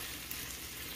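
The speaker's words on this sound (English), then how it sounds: "ground beef that I am cooking up on the saute mode" Ground beef, still partly frozen, fries in a multicooker pot on saute mode, giving a steady close sizzle that stays even and unbroken for the whole second with no talking.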